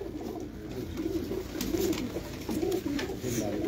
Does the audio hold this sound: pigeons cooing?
yes